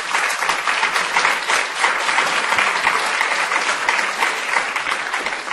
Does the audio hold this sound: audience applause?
yes